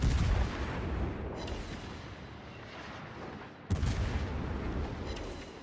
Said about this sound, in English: I can use the guns to help finish off Immelman